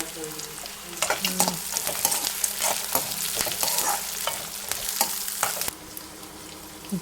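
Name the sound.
cashew nuts frying for paneer butter masala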